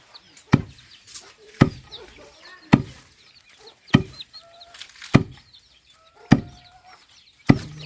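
Chickens cluck softly while drinking water, with sharp, loud knocks every second or so, like pecking, and chirpy calls scattered between them.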